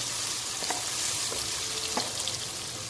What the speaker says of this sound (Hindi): अब इसको हम 5 मिनट तकरीबन भूनेंगे